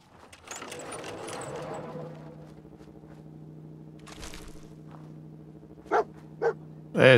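Dogmeat, the German Shepherd companion in Fallout 4, barks a few sharp times near the end, following a stretch of quieter game ambience and movement sounds.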